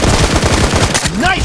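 Rapid automatic gunfire in PUBG Mobile (BGMI) rattles off in a fast, loud burst of evenly spaced shots, followed by a short pause and a brief electronic game sound.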